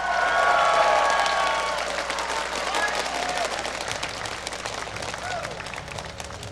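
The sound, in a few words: audience cheering and applauding at League of Legends match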